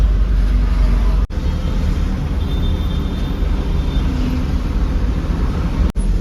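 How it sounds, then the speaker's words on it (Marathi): Steady rumble of road traffic from inside a moving vehicle in a traffic jam near a tunnel, a continuous engine and road drone with a couple of brief dropouts. "आता इथं थोडं ट्रॅफिक लागलंय बरं का"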